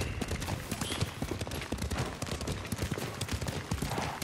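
Horse hooves clip-clopping at a brisk, steady canter on the ride toward Toyotama in the Ghost of Tsushima video game, close and continuous over a busy background.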